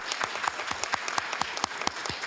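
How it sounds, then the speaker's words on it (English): Scattered applause at a city council meeting for the district attorney, a small group clapping with distinct individual claps in an uneven rhythm, close by. "let's give our district attorney a big round of applause"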